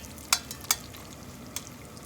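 Bacon fries in a hot pot as it is stirred and scraped, with a soft sizzle under three sharp scraping clicks that are spaced unevenly.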